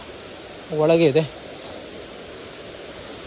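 Kanneguundi falls near Bhatkal, Uttara Kannada, gives a steady broadband rush of falling water heard from a short distance, with a brief spoken phrase over it.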